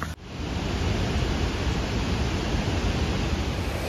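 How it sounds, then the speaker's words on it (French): Small, low-flow waterfall beside a road in Iceland, a steady broadband rush of falling water heard close and continuous throughout, with no voices. "Et voilà, encore une cascade."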